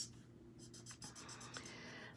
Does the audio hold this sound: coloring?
yes